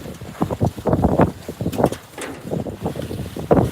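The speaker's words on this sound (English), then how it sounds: "See? windy." Gusty outdoor wind buffeting the microphone in irregular low rumbling bursts, loud and close, rising and falling over a few seconds.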